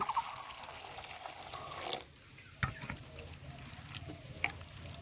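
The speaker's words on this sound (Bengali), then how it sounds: "এই ভুট্টা তো এবার আমি নর্মাল ভালো জল দিয়ে ভুট্টাটা ভালো করে ধুয়ে নেব" Fresh corn kernels washed in plain water produce soft splashing and swishing with small clinks, a brief pause, then renewed gentle sloshing, fairly quiet and close.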